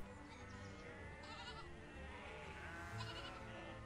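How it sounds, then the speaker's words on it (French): A flock of sheep bleats repeatedly, several overlapping calls near and farther off over a steady din of the herd moving along a road, with no talk. "les automobilistes étaient patients et étaient amusés de voir les troupeaux de brebis déferler sur les routes"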